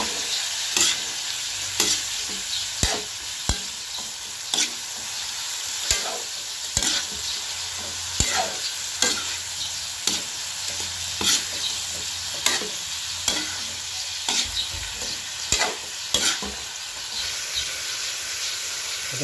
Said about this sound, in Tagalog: At haluin po natin hanggang mag yellow or orange ang kulay ng ating hipon.